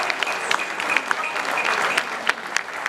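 Steady applause rises from a gathered crowd at a Ghana football press event, dense clapping with a few sharper nearby claps standing out.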